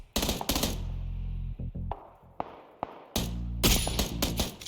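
Rapid automatic gunfire in a video game shooting at bots comes in loud bursts of close, sharp reports, with scattered single shots and thuds between the bursts.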